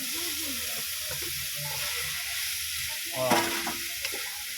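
Squash (kalabasa) sautéing in a pan for a mung bean stew with shrimp, a steady close sizzle throughout with a brief louder stir or clatter near the end and no talk.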